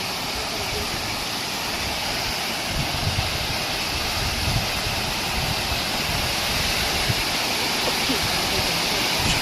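Tirathgarh waterfall in a Chhattisgarh forest roars as a broad, continuous rush of falling water, loud and fairly near, with faint voices and a low background rumble beneath it.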